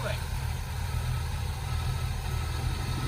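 An Oldsmobile Cutlass engine idling close by, a steady low rumble with constant broadband exhaust noise throughout, while people talk nearby.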